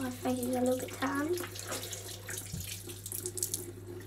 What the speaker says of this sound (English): Now I just need to rinse all the soap off.